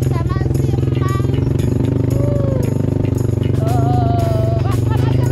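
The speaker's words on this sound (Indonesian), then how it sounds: "emak lagi naik motor sama si Emang." A motorcycle carrying two riders through a rural area, its steady engine drone running loud and continuous throughout, with people talking over it.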